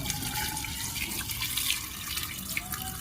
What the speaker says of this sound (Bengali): এখন এই জলটা আমি এই বয়মের মধ্যে দিয়ে দেব।